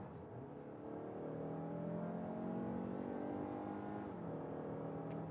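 A 2026 Mazda CX-5 with a naturally aspirated 2.5-liter four-cylinder mild hybrid accelerates from 60 to 100, its steady engine drone rising in pitch through a gear, then briefly dropping and climbing again, heard from inside the cabin.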